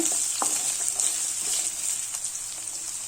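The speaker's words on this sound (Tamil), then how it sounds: "ஒரு 2 நிமிஷத்துக்கு நல்லா வதக்கிக்கோங்க." Cubed yam and potato pieces being sautéed in a pan for Kerala-style aviyal, a faint steady sizzle with soft scattered stirring scrapes and taps, no talking.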